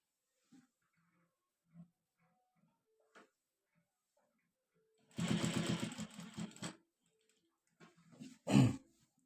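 A sewing machine stitching a front placket and button tape on a shirt: a few faint clicks, then a close, rapid mechanical burst of stitching lasting about a second and a half, followed by a shorter, louder burst.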